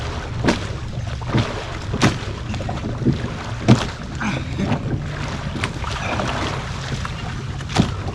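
An Ascend 133X fishing kayak is paddled on open water: regular splashing paddle strokes about once a second over steady wind and water wash, close to the microphone.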